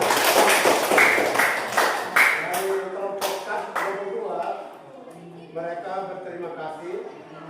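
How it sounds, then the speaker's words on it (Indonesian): A group claps together in a room after a class presentation, a dense burst of applause in the first few seconds that thins out as a voice takes over and keeps talking. "Ya, tepuk tangan."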